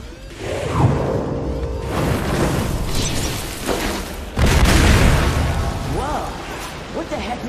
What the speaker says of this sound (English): It's a green explosion.